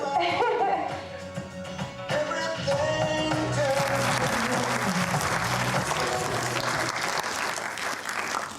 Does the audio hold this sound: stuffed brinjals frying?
no